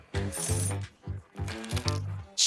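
Coins dropping in a game setting, a quick series of metallic clinks in several bursts, close and fairly loud with no talking.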